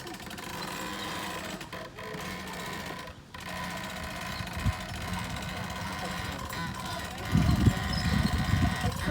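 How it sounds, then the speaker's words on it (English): A small crane's engine runs with a steady mechanical drone while hoisting a Barstow sign, with brief clunks and louder bursts near the end, and voices can be heard. "We've got a little crane here to hoist it up and put the bolts"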